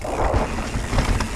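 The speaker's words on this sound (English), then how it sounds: "All right, here we go on this wall ride feature." A mountain bike rolls across a wooden wall ride feature on the Uberpunch trail at Camp Fortune, giving a close, steady rumbling roar of tyres on boards mixed with heavy wind buffeting, loud and continuous throughout with no voices.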